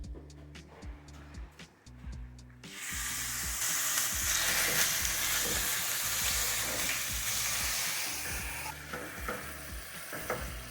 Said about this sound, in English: So we need to add some oil. Then get the meat.